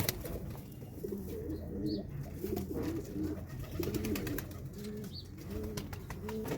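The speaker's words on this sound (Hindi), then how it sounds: "और दूसरा वाला सिराजी है, उसने दूसरे जो कबूतर है नॉर्मल कबूतर के साथ जोड़ा बना लिया है।" Domestic pigeons coo steadily in a loft or coop, several overlapping low, rolling calls repeating throughout at close range, with no talking.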